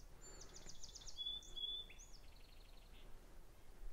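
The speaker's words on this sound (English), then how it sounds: "You can sit here, watch the water bugs and listen to the birds." Faint birds chirp and whistle in short phrases over a steady outdoor hiss, a few calls sliding in pitch, distant and quiet.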